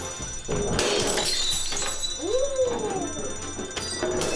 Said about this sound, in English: In case of emergency, break glass.